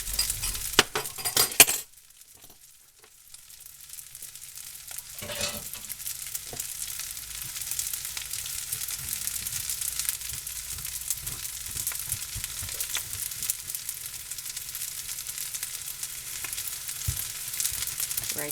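Pork fried rice sizzling and frying in oil, a steady broadband hiss running throughout, with a few clinks and stirring scrapes of a utensil early on and no talking.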